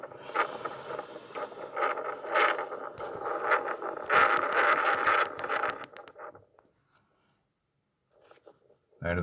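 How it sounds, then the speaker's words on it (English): Outdoor wind buffets the microphone in a rough, gusty rumble that swells and fades for several seconds before dropping away to near quiet, with a bump of handling at the end. "Yeah, it's windy."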